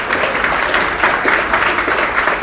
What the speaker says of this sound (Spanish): Si va a aplaudir, aplauda en esta mañana,